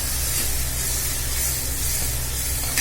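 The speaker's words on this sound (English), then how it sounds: "I will be putting my onions, finely chopped onions now" Finely chopped onions sizzling in a hot pan while cooking pasta, a steady, loud, even hiss without pause.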